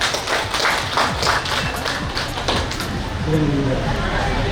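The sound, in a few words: audience applause at a meeting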